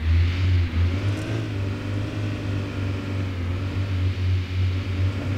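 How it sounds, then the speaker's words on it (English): A car engine in the City Car Driving video game drones steadily at low pitch with slight swells in revs, continuous and close, with no voices. "give it some revs."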